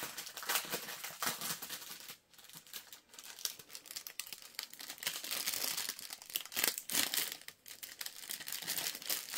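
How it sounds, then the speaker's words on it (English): Plastic packaging crinkles and crackles steadily as it is torn and opened up close, with dense rustling bursts and brief pauses, no talk. "Let me try to open this away from the camera so we don't have as much crinkling."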